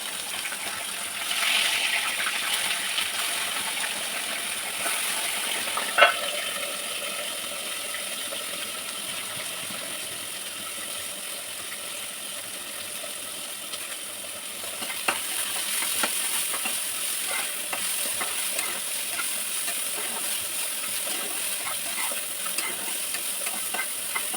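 Fish frying in hot oil in a Bengali home kitchen, a steady sizzling hiss that holds for the whole stretch, with a few clinks and scraping stirs scattered through it.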